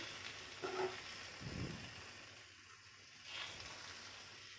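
Stuffed eggplant masala curry stirred gently in a pan as it cooks, with a steady low sizzle and a few soft scraping strokes, heard close and quiet.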